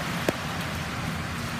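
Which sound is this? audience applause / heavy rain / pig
heavy rain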